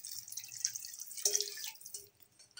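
Lukewarm water is poured into a pan of fried bitter gourd and potatoes, a brief close splashing trickle with a few drips that fades into quiet.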